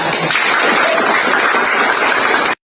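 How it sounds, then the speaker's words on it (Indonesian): A crowd at an Indonesian charity gathering gives loud, dense, continuous applause that holds steady for about two and a half seconds, then cuts off abruptly into silence. "Oke, tepuk tangan."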